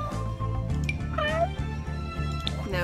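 A cat meows several times in The Sims 4, short rising calls over steady, looping game background music, fairly close and clear with no talk.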